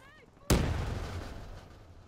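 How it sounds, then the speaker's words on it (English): A bomb blowing up in Black Ops 3, one sudden sharp close blast that decays into a long booming low rumble. "That's a bomb."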